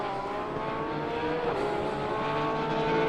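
A Porsche race car passes on a circuit during a qualifying session, its engine holding a loud steady wail that rises slightly as it nears and then carries on at full volume.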